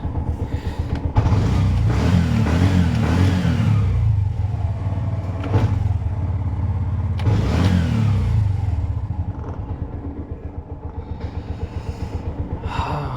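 A restored Bajaj auto rickshaw with a BS4 engine runs on a test ride, its small motor droning and revving steadily for several seconds, then settling into a lighter, pulsing idle-like putter near the end.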